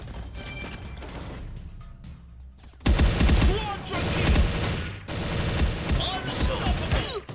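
M4A1 rifle fire in the online shooter Bullet Angel: after a few seconds of quieter game ambience, loud rapid bursts of automatic gunfire crackle on and off, with brief gaps between volleys.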